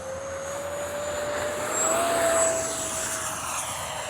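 A Freewing F-16 70mm RC jet flying overhead, a steady high turbine whine that swells slightly as it passes nearest, then eases back, with no voices.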